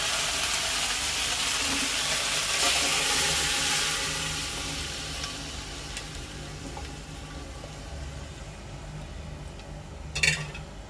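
Peas go into a pan of fried spice masala for ghugni, sizzling steadily at close range, easing slightly over time, with a sharp clink of a utensil near the end.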